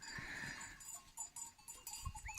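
Sheep at a red barn high on a mountain farm, with a few faint, distant bleats and bell-like tinkles rising over steady outdoor ambience.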